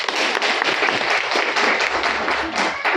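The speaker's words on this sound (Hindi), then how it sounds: "ताली बजाइए।" An audience at a school parents' orientation program claps loudly and continuously, a dense even burst of applause filling the space without pause.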